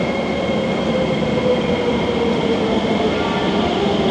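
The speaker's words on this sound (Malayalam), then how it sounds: "നമ്മുടെ ട്രെയിൻ അതാ വരുന്നുണ്ട്" A Singapore metro train pulls into Jurong East station with a loud, continuous rumble and a steady mechanical hum that fills the platform for the whole stretch, with no clear talk.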